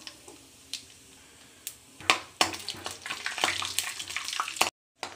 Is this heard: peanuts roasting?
yes